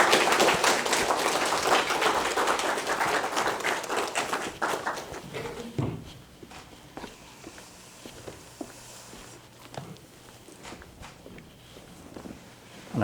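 A church congregation applauds a missionary with dense, loud clapping for about six seconds, then trails off into scattered claps and rustling in a quieter hall.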